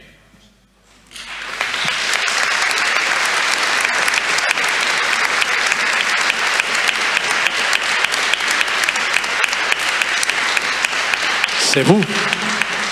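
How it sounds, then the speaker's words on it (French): A church congregation at Vespers breaks into sustained applause after a brief quiet start, a dense, steady roar of many hands filling the room until the end, with a voice briefly speaking near the close. "nous allons applaudir le peuple de Dieu."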